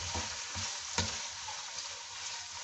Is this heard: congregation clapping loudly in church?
no